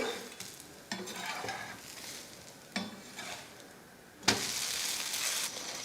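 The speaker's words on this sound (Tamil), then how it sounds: "இப்போ நான் திருப்பி போட்டுக்கிறேன்" Instant dosa made with added rice flour sizzles steadily in a hot pan, with a crackling frying hiss that jumps louder near the end as the dosa is flipped, no talking.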